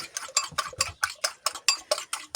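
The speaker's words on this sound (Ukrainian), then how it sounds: "Так, збиваємо ці яйця із сіллю." Eggs beaten with salt in a bowl, a quick run of about a dozen crisp clicking whisk strokes against the bowl's side in a steady rhythm, close and clear with no voices.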